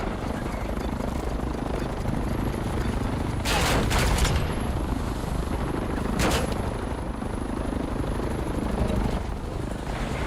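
A video game helicopter flying overhead: a constant loud rotor drone fills the scene, broken by two short bursts of gunfire, and a thin high whine runs throughout.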